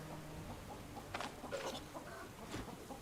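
Chickens clucking in the video game Stoneshard, a few short faint clucks and squawks scattered over a low steady game background, with no talk.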